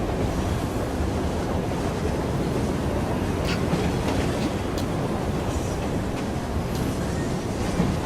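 A train runs in Assassin's Creed Syndicate with a continuous loud rumble and rushing roar, steady throughout with faint clanks on top.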